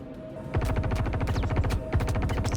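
Rapid gunshots in a first-person shooter on the Ironclad map, a fast sharp string of close, evenly spaced shots that keeps going after a quiet opening, with no talking.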